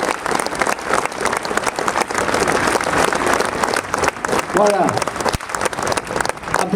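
Sustained crowd applause at the Brescoudos biker gathering in Cap d'Agde, thick continuous clapping that stays loud, with a brief voice or whistle-like sound rising near the end.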